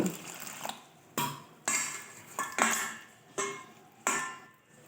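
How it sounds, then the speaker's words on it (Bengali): Semolina is washed with water in a bowl, making six sharp clinking sloshes at a roughly regular pace, each fading quickly, with nothing else heard. "সুজিটা আগে ভালো করে জল দিয়ে ধুয়ে নেব"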